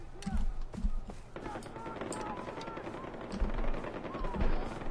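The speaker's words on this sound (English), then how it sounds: "Of course there's more gunfire too" Bursts of rapid gunfire crackle and echo amid a busy Far Cry 4 game soundscape, with thumps and a voice-like murmur in the background.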